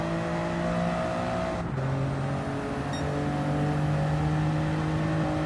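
Racing cars in the video game Gran Turismo 7 roar through a corner, with a continuous droning engine tone holding and then stepping down in pitch as the car shifts, steady and loud throughout.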